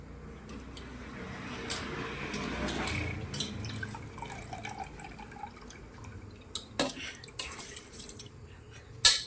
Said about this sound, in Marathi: हे तांदूळ धुतले आता, धुवून टाकते.